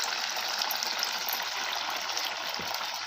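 Sabudana vadas fry in hot oil with a dense, even hiss and bubbling that holds steady and loud throughout, with no talk.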